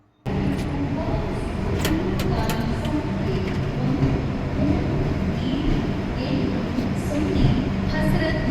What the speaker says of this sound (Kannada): ಇದು ಹಜರತ್ ನಿಜಾಮುನಿಂದ ವಾಸ್ಕೋಡಿ ಗಾಮ ತನಕ ಹೋಗುತ್ತೆ ಗೋವಾ ಎಕ್ಸ್ಪ್ರೆಸ್ ಟ್ರೈನ್ ಇದು